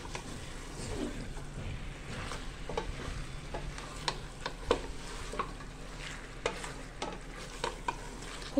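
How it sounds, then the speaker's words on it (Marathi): Mutton browning with onions in a hot pan, a steady sizzle and frying hiss with stirring scrapes and clinks throughout, close and continuous with no talk. "कांद्यामध्ये आपल्याला हे मटण छानपैकी असं परतवून घ्यायचंय"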